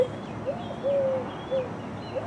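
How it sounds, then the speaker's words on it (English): A bird, likely a dove or pigeon, coos outdoors in a few soft, low, hooting notes, moderately close over a steady background hum. "Oh, now he's cooing!"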